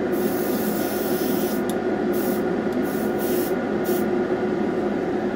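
A spray can mists a light gray coat onto HO scale model bins and a meter box, producing a steady, close hiss that runs continuously with a few brief sharper bursts.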